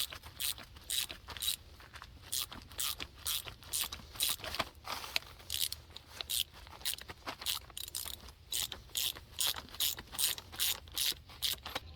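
Ratchet wrench loosening an 18 mm nut on a Jeep XJ rear shock bolt, close and loud: a continuous run of rapid ratcheting clicks in steady back-and-forth bursts, with no voices.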